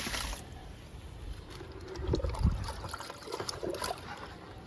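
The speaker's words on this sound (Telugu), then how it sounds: "ఈరోజు నేను సపోటా మొక్కకి లిక్విడ్ ఇస్తున్నాను" Kitchen waste liquid fertilizer trickles and splashes as it is poured onto a sapota plant outdoors, a soft, close dribbling that swells and fades over a few seconds.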